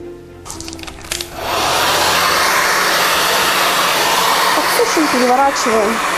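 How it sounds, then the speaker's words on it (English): A heater blows a loud, steady rushing stream of air to dry freshly painted paper tubes, starting after a second of light handling noise and running continuously, close and full, with brief faint voice-like tones near the end. "dry them with the help of a heater"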